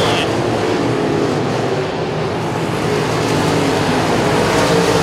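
Modified race cars roar steadily around a speedway during a feature race, a dense, continuous engine drone filling the whole stretch at high level with no clear pauses.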